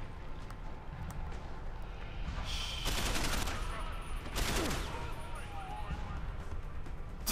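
Bursts of gunfire in the video game Deus Ex: Human Revolution, two loud volleys of shots around the middle of the clip over a steady game background, with no talking.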